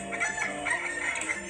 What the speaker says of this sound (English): And the cockerel cock-a-doodle-doo.